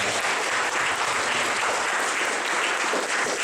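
A crowd at a startup weekend event claps loudly for the volunteers, a dense, continuous roar of applause that holds steady from start to finish.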